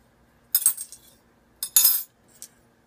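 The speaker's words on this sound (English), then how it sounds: "The fork is smaller than the spoon, so we switch them." A metal fork and spoon clink against each other and a surface as they swap places, two quick bright bursts of jangling metal close up, then a small final tap, with no talk.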